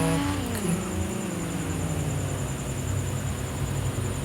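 A Honda Civic fitted with a NOS kit revs and accelerates during a speed test, a loud, steady engine roar with rising pitch and tyre and road noise, close to the microphone.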